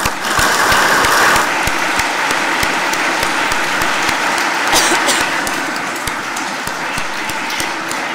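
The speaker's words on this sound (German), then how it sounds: "ihr habt nochmal einen Applaus verdient." A church congregation applauds during a Christmas Eve service, sustained loud clapping with distinct sharp claps standing out through a full, even wash of sound.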